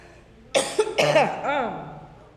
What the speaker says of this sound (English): going to make you crazy if I don't stop coughing